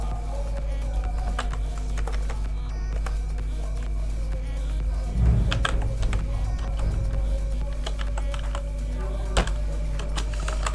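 Someone types on a computer keyboard, sparse key clicks scattered over a constant low hum, with a short burst of louder activity partway through.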